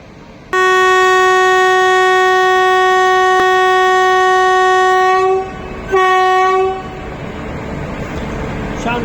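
Erode Electric Loco Shed's WAP 7 electric locomotive #39123, in freedom-themed livery, sounds a loud, sustained horn blast close by, then a second short blast, followed by the rushing rumble of the train passing on the rails.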